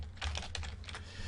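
Rapid typing on a computer keyboard during coding, a quick run of close, crisp key clicks lasting just over a second.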